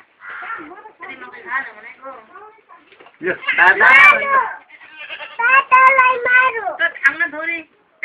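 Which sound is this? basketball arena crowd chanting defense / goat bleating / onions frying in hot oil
goat bleating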